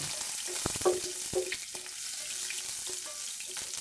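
Garlic sautés in oil for mung bean stew, giving a soft, steady frying hiss with a few light utensil clicks, close but fairly quiet and with no voices.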